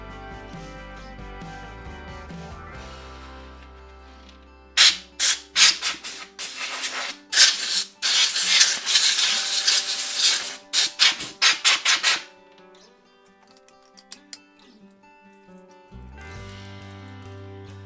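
A DeWalt DW682K biscuit jointer is cleaned out by hand, with a run of close, loud rubbing and scraping strokes in quick bursts through the middle, quieter handling before and after, and no talk.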